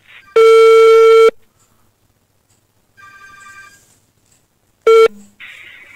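An Android phone placing a call: a loud sustained tone burst, a quieter ringback tone, then a short loud beep and a brief chirp, separated by near silence.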